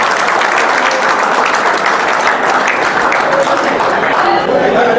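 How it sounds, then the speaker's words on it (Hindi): Loud, steady applause from a crowd during a Bhagwan Parshuram shobha yatra procession in Karnal, continuous clapping that fills the whole stretch with some voices mixed in. "एक बार इनके लिए जोरदार ताली बजा दो भाई।"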